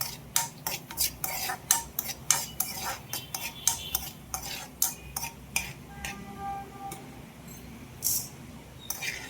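Raisins fry in a pan for mango and Bombay rava halwa, stirred with a metal spoon that clinks and scrapes in quick irregular taps over a soft sizzle, close and fairly loud with no voices.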